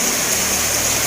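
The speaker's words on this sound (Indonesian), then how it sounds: "dalam keadaan hujan sekalipun." Steady, dense rain pouring outdoors during a groundbreaking ceremony for a Catholic church in Oransbari, a loud even hiss filling the moment without breaks.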